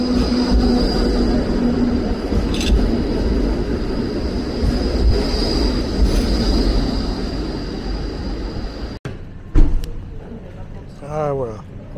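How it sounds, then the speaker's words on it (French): A tram rumbles along a street in Ghent, with a steady rolling roar of wheels on rails, brief squeals and clatters near the end, and someone talking over it. "Attention, on a un tram."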